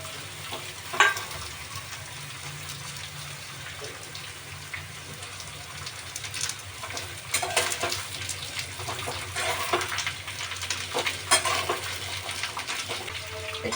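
Thin slices of red pumpkin sizzle in hot oil with coriander, a steady frying hiss with occasional stirring clatters and scrapes near the pan.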